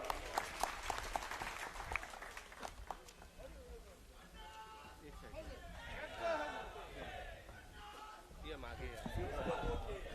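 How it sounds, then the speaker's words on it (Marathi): Crowd at a political rally in Nandgaon claps to welcome Aditya Thackeray of Yuva Sena, scattered loud claps at first, then a murmuring, cheering crowd with voices throughout. "कृपया त्यांचं स्वागत करा टाळ्या वाजून"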